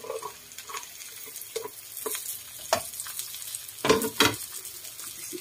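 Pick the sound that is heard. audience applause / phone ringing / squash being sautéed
squash being sautéed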